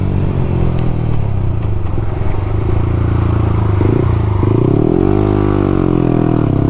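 A 2020 Yamaha YZF-R125 motorcycle accelerating hard at full throttle, its loud engine note climbing steadily through the gears with a brief dip at a shift, heard up close from the rider's position with wind roar underneath.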